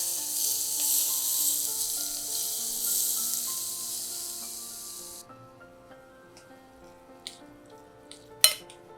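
Hot mustard oil poured into a garlic and green chili pickle gives a loud, steady hiss for about five seconds that then cuts off, followed by a few faint clinks of utensils with no talking.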